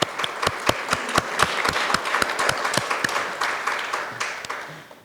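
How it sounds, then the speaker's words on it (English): An audience at a university alumni association report event claps in a sustained round of applause, many hands close together with dense, uneven, crisp slaps throughout and no speech. "they deserve a round of applause for the work they do to advance our relationships"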